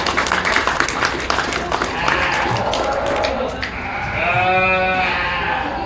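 Sheep at a county fair sheep show bleat amid a noisy crowd and clattering arena sounds, with a long, clear bleat rising near the end over the busy background.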